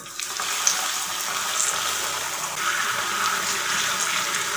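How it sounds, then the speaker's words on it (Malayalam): Water poured into hot sugar caramel in a pan for a carrot and dates cake bursts into a steady, loud sizzling hiss that runs for a few seconds without any talk. "ഇതൊരു മുക്കാൽ കപ്പ് വെള്ളം ഒഴിക്കുന്നുണ്ട്"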